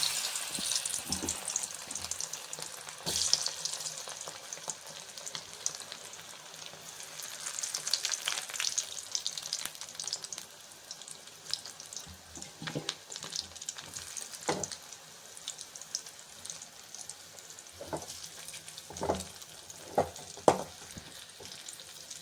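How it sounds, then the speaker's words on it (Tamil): Baby potatoes frying in a pan, a continuous faint sizzle with scattered scrapes and taps of stirring, the clicks growing more frequent near the end, with no voices over it. "இதேமாதிரி தான் வறுக்கணும் பார்த்துங்க"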